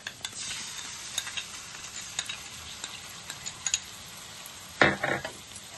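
Pasta stirred with tomato sauce in a pan, with a soft steady sizzle under scattered scraping ticks of the spoon and a sharper clatter of utensil against pan near the end; no talking.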